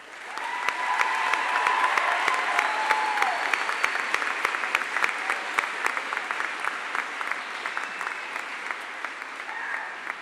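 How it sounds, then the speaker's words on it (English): A high school commencement crowd applauds graduates who are going into the military, steady clapping at moderate volume for about ten seconds, with faint tones and murmurs underneath. "please rise for a round of applause"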